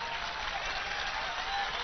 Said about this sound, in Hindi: एक बार ताली बजा दो इनकी बात को।